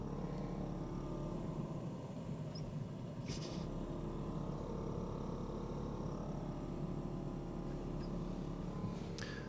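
An electric brake booster vacuum pump mounted on the frame of a GMC motorhome runs as a steady low hum throughout, with a few faint clicks over it.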